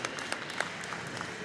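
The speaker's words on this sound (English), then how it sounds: "I think that's the first time I've ever got applauded for being a Bay Street lawyer." Scattered clapping from an audience at a CNE gathering, fairly faint and thinning out, with a few distinct claps standing out over a soft wash.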